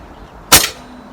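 A single sharp air gun shot from an AP 900, a close, abrupt crack with a quick decay against a quiet background, no talking.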